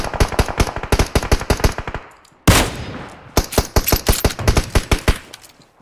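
Rapid automatic gunfire in the mobile battle royale game PUBG Mobile, loud close bursts of sharp shots, then a single heavy blast, then more fast bursts.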